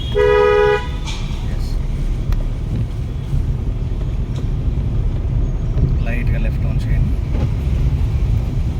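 A car horn honks once at the start, a short loud blare, followed by idling engine and road rumble with occasional faint background sounds, during a driving lesson.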